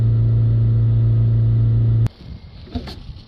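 A BMW 525d diesel engine with a clogged particulate filter drones loudly and steadily, holding constant revs for about two seconds, then cuts off abruptly to quieter rustling and handling noises.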